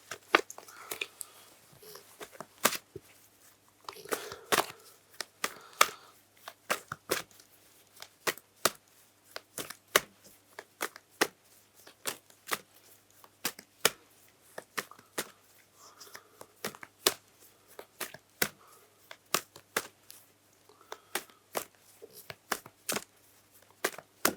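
Rapid, irregular crisp clicks and flutters of tarot cards being shuffled and handled, close by, in repeated bursts with short pauses, no talking.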